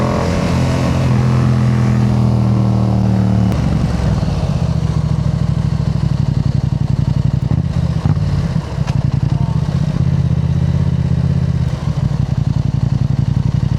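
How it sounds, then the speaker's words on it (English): Yamaha MT-07 motorcycle fitted with a Yoshimura exhaust, engine revving up with a steady loud throttle blip, then a rougher rumbling run with clatter, close to the microphone with no talking. "What I love about this Yoshimura pipe is that it's like quiet when you don't want to be rowdy"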